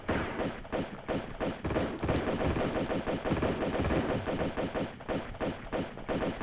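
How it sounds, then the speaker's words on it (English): Sustained rapid gunfire from the video game Tomb Raider II rattles loud and continuous, dense automatic bursts that run almost unbroken. "What quality of coat is that to stop so many bullets?"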